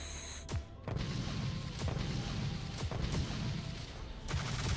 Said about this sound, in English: it will blow and it will kill me because it is quite a large explosion